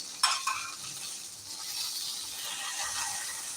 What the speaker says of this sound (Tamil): அதே மாதிரி எல்லா மீனுக்கும் வறுத்துக்கலாம்.